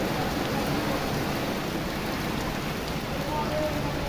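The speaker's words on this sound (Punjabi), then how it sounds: "ਭਾਰੀ بارش ਹੋ ਰਹੀ ਹੈ" Steady, dense rain hiss fills the whole stretch in a village in Mansa, Punjab, in the morning, broadband and constant with no pauses, heavy and close all around.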